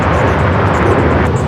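A Dreamliner airliner at LAX airport gives off a dense, loud, continuous jet roar for a short stretch with no voices.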